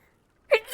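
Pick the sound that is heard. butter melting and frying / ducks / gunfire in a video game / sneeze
sneeze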